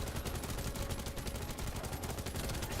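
Rapid, sustained automatic gunfire from a weapon in The First Descendant, a continuous stream of closely spaced shots filling the short stretch at steady loudness with no talking.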